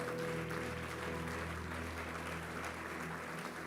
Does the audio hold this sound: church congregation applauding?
yes